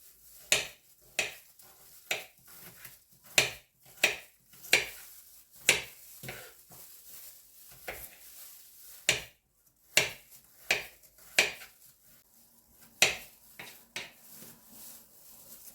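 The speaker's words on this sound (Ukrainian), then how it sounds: "Тепер беру такі два зубчики чесничку Можна більше, можна менше, це вже за смаком. І також нарізаю так нам дрібненько." A knife finely chops two garlic cloves on a board for lightly salted cucumbers, giving a sparse, close series of crisp individual knocks with short pauses between, alone without speech.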